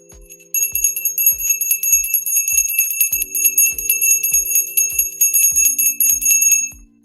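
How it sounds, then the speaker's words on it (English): A small bell rings in a steady series of about a dozen clean, evenly spaced strikes, each a bright chime with a lingering tone, loud and close, with no talk over it. "That was a very clean ring of the bell today as well."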